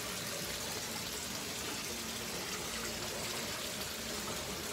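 Water runs steadily through a soil-free aquaponics trough fed by a pump from a fish tank in a greenhouse, a constant broadband gushing and trickling wash with no breaks.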